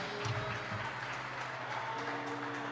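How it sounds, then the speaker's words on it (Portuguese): A church congregation claps in rapid, sustained applause throughout, fairly distant and diffuse, with faint voices mixed into the room. "Aplauda o nome dele com toda a tua força."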